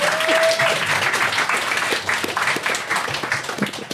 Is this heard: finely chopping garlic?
no